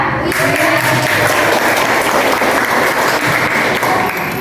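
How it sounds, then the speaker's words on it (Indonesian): A classroom of students applauds together in a dense, steady burst of clapping that stays loud and continuous throughout, with no clear talking over it. "Boleh nanti tepuk tangan ya."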